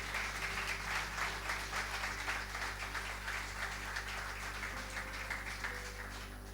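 A church congregation applauding, a dense, steady wash of many hands clapping together that holds throughout and fades slightly at the end.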